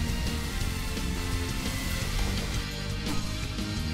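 A lightning rain attack in the Blox Fruits video game makes a steady, dense, rain-like hiss that fills the whole stretch with constant loudness and faint crackling bursts.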